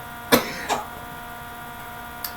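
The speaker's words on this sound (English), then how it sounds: "Got me coughing." A single sharp cough followed by a second, softer cough a moment later, then a faint click near the end, in an otherwise quiet indoor setting with no talk.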